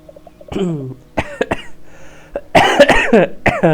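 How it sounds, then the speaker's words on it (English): Several harsh coughs and throat-clearing bursts, close and loud, spread across a few seconds, with voiced strain between them. "I was gonna be coughing a little bit."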